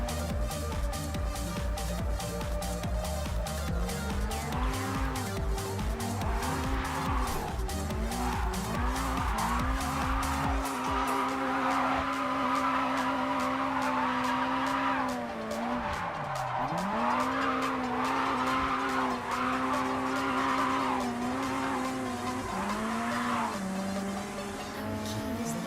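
An upgraded JDM car of about 300 horsepower drifts with its engine roaring loud and close, rising and falling through revs while tires skid and squeal continuously throughout.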